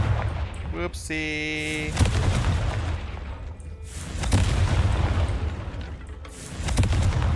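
A Confringo fire spell explodes in the video game Hogwarts Legacy, a loud booming blast with crackling debris and rumbling, followed by further bursts, with a voice speaking briefly over it.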